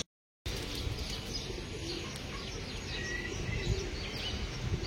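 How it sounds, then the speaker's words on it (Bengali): Pigeons kept by a hobbyist with young birds just learning to fly coo and chirp continuously nearby over a dense, busy outdoor background. "কবুতর গুলা কই"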